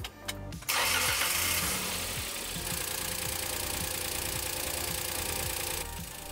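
A Daihatsu Hijet kei truck engine cranks briefly, catches and settles into a steady, close mechanical idle after an alternator repair, with no talking over it.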